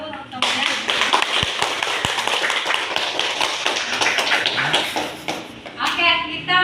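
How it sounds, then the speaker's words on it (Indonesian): Students in a classroom clap for a group that has just finished its presentation, giving sustained, fairly close applause with children's voices chattering under it, then a rustle of movement as the clapping ends. "Silakan tepuk tangan dulu untuk temannya."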